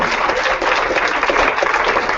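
Dense applause from a seated conference audience at a leadership panel, steady, loud and close throughout with no clear speech over it.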